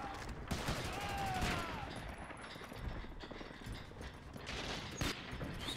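Gunfire crackles in the video game Medal of Honor: European Assault, with a few sharp shots and bursts standing out from a noisy battle ambience, fairly faint overall.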